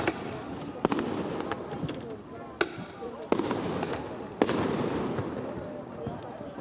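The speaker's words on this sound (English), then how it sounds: "These are flashbangs coming from law enforcement" Police flashbangs go off at a protest encampment being cleared, several sharp bangs spread across a few seconds over a noisy crowd, some loud and close, others more distant.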